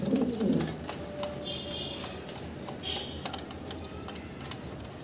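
Fancy pigeons coo at a bird seller's, low soft murmurs mostly near the start, over a busy background of faint clicks and ambient noise.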